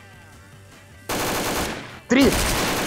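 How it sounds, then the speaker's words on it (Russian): Bursts of automatic gunfire in a GTA roleplay game, a loud rapid volley followed by a second even louder burst, with someone shouting briefly between them. "У меня она даже это, один выстрел просто сделал и все."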